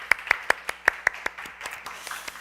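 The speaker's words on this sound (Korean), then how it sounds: "우리 하나님께 영광의 박수 드리겠습니다." Church congregation at a Sunday youth service clapping in praise, a few prominent close claps in a steady rhythm over a lighter spread of hands, tapering off after about two seconds.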